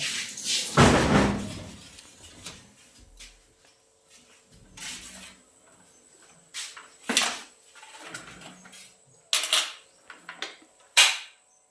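Metal lock hardware is fitted onto a Thai glass window sash, giving sharp clicks, knocks and clattering taps spaced irregularly, with one loud bang near the start and quieter handling in between.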